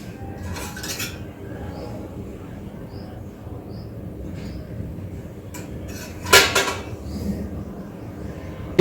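A kadai used earlier for roasting dal is handled in a kitchen ahead of adding oil, with soft metallic clinks and a louder clatter of pot and utensil near the end, over quiet background noise.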